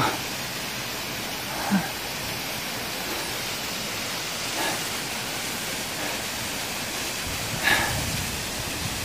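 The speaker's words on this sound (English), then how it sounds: "There's the second waterfall." A waterfall at the end of a gully hiking trail roars with a constant, even wash of falling water, heard from nearby, with a few faint brief knocks over it.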